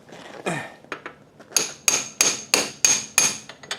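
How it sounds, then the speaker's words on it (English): A hammer taps a socket extension to drive out the rear axle bolt of a 2001 Kawasaki Ninja 250 in a steady series, about eight sharp taps with bright metallic clinks, close by and with no talking. "a socket extension and a hammer, and just tap the axle bolt out"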